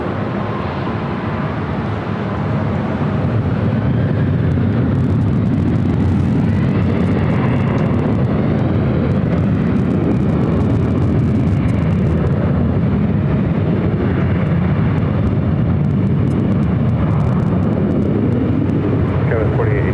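Jets at Los Angeles LAX airport, a loud, steady roar of engines rumbling on without a break while a voice talks over it throughout.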